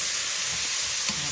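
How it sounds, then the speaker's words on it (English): Oysters sizzling in a pan of bacon grease with a little vegetable oil, a steady, close, loud frying hiss with no pauses and no one talking. "Put it right in that bacon grease. I had added a little bit of vegetable oil to get us started there."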